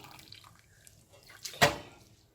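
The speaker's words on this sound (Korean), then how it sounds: "불을 끄고 찬물에 얼른 담가 주셔야 해요" Blanched mung bean sprouts are dropped into cold water in a kitchen, a faint trickle of water followed by a single close splash.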